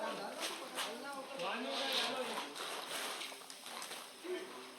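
Water splashes and sloshes in a huge deg where saffron halwa is being cooked at the Ajmer Sharif dargah, a steady wet churning under constant loud voices calling out nearby.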